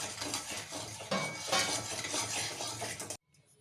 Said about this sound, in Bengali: দিয়ে ফোড়নটা একটু ভালো করে ভাজবো।